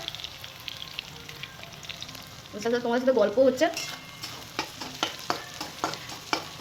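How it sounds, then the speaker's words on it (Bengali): Onions and whole spices fry in a pan at a home picnic cookout with about a kilo of mutton, giving a burst of stirring and sizzling in the middle followed by scattered scraping clinks, while someone talks briefly. "আর আমি মশলা পেঁয়াজটাও ভাজা হচ্ছে, তোমরা দেখতে পাচ্ছ"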